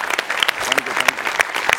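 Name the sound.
audience applauding loudly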